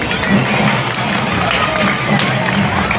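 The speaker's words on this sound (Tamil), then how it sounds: "அனைவருக்கும் நம்முடைய பாராட்டுகளை கரகோஷத்தின் மூலம் தெரிவித்துக் கொள்கிறோம்." A school crowd at an Independence Day celebration claps and cheers for award recipients, a dense, loud spread of applause with voices mixed in throughout.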